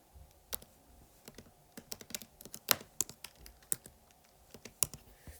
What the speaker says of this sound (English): I will type that in the calculator.